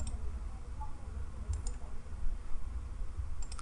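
A few sharp mouse clicks, including a quick double click, sound over steady low background hiss while someone works in Inventor CAD software.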